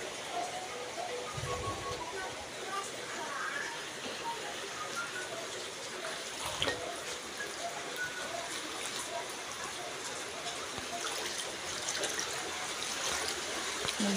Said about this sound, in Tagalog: Ayun tubig. Kita nyo ba? Ang lakas guys.